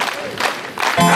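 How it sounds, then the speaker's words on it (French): A congregation at a Pentecost church service bursts into applause, with surging waves of clapping and crowd noise that swell loudly toward the end. "Ah, applaudissons!"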